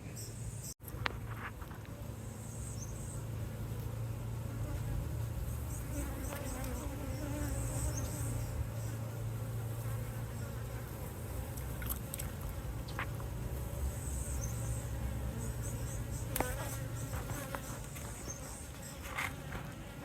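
Honeybees in Barbados buzz steadily in a thick, continuous drone while being moved from a nuc box into a permanent hive, with occasional clicks and light knocks of handling close by.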